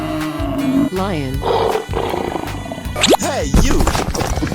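A lion roars in a 3D animal sliding game alongside other wild animal calls, loud growling bursts mixed with swooping cartoonish cries and a clattering game soundtrack.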